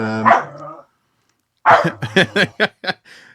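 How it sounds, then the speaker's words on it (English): A dog at home barks to be let out: one bark, a pause, then a quick run of several sharp barks and yips, close and loud with no talking. "And the dog is asking to be let out now."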